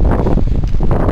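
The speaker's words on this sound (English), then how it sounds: "but going straight into the teeth of the wind" Strong wind buffets the microphone on an open golf course, a steady loud rumbling roar with gusty fluctuations and no talk.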